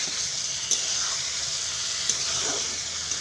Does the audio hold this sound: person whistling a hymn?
no